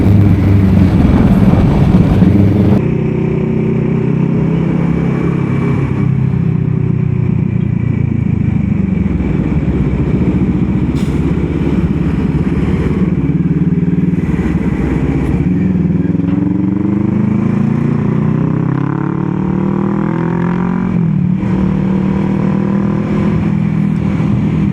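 A motorcycle rides along a road with its engine droning loud and close throughout, pitch rising and falling as it accelerates and eases off.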